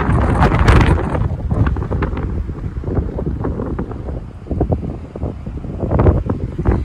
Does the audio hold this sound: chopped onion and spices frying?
no